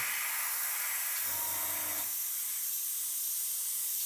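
An airbrush sprays thinned acrylic paint onto a plastic model with a steady, close airy hiss, briefly joined by a low humming tone partway through.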